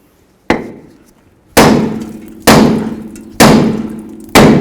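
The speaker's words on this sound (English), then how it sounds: "Grab your hammer and hit right here on the knuckle." A hammer hits the steering knuckle of a 2003-09 Mercedes-Benz E320 during upper control arm removal, five loud, ringing metallic blows spaced about a second apart, each decaying slowly, with no talk.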